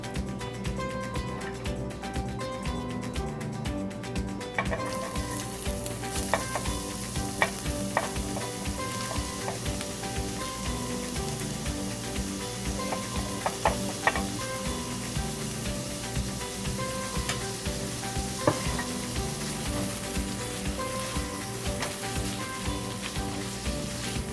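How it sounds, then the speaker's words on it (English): Vegetables sautéing in a tablespoon of olive oil in a pot on medium heat, a steady soft sizzle with scattered stirring clicks and scrapes running throughout; a faint tonal background underneath. "I'm going to start to saute my vegetables"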